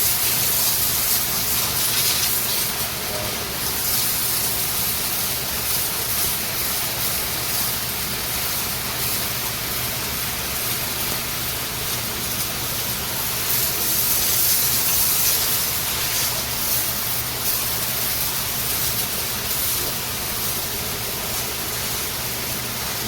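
Steady, loud hiss of a water spray used while washing pigs, continuous and unbroken throughout, with no voices.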